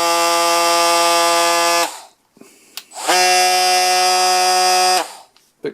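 A ToolPRO cordless 18V oscillating multi-tool runs with a loud, steady high buzz in two long bursts separated by a brief pause, sounding close and alone.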